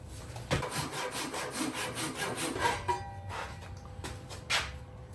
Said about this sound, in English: Color me impatient, but I'm gonna hand saw the rest while the battery charges.